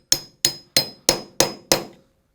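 A hammer strikes a socket six times at an even, quick rhythm, seating a lock ring on the gas cylinder of a Steelcase Criterion office chair; each blow is a sharp, close metallic clank.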